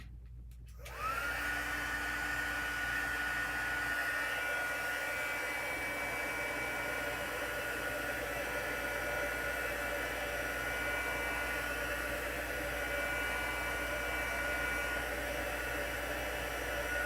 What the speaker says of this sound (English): Heat gun alert.